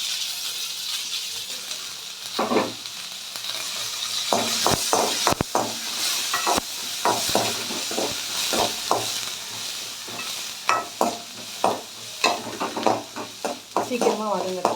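Onion, green chilli and curry leaves sauté in hot oil with asafoetida and cumin for a beans and peas thokku, a steady sizzle broken by repeated scraping stirs and clinks of a spoon against the pan, close and fairly loud.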